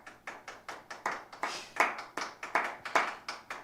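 Hands clap about fifteen times in a steady, fairly quick rhythm, each clap sharp and close with no voices over it.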